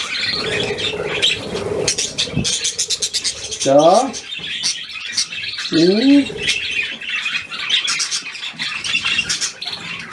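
Pet budgerigar squawking and chirping close by, busy scratchy chatter throughout with two louder rising squawks in the middle, while a person talks briefly.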